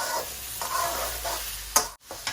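Potatoes fry in a pan for khichuri with chickpeas, a steady close sizzle broken by the scrape and clatter of stirring, with no talk.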